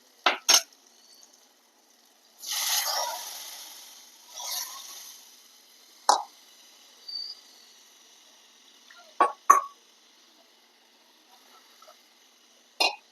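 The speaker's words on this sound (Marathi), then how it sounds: "आता ह्यामध्ये टाकू आपण जी डाळ शिजली ती" Cooked moong dal tipped into a turmeric tempering in a pot and stirred, giving scattered utensil clinks and scrapes with a couple of longer soft stirring swishes between quiet gaps.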